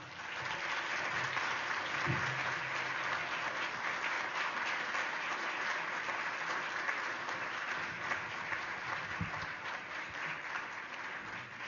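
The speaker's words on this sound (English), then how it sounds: "please give a very warm round of applause for Mr. Eddie Johnson" Sustained applause from an audience at a 15th anniversary event in Phoenix, Arizona, honoring Eddie Johnson, a steady dense wash of clapping lasting throughout with no voices over it.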